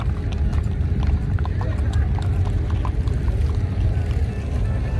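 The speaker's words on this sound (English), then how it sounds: "Can't have a parade without horses and a goat." Horse hooves clip-clop steadily on pavement during a small-town street parade in Chloride, Arizona, with a dense rhythmic clatter under a low crowd and engine rumble.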